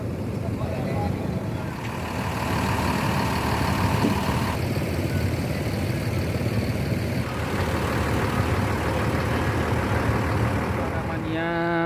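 Mercedes-Benz medium bus engine running near a bus terminal, a steady low rumbling drone that stays loud and close throughout, with chatter and an announcer-like voice over it.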